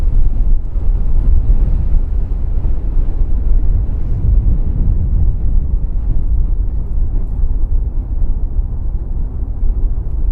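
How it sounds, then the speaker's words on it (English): Gusty wind at Christchurch airport, sustained around 34 knots, roaring as loud, continuous low buffeting against the microphone with surging gusts and no voices. "So it's gusting."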